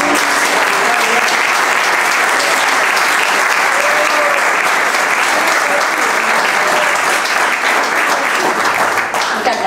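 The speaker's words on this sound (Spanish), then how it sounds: "Un aplauso grande." Loud, sustained applause from a large theatre audience at a tango concert, dense clapping filling the whole stretch with steady intensity.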